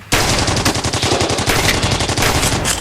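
Machine gun fire in a stop motion toy army men battle, a loud, close, continuous rapid burst of shots lasting nearly three seconds.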